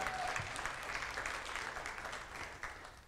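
A church congregation applauds an anniversary of 25 years of marriage, steady close clapping that fills the whole stretch and fades slightly at the end.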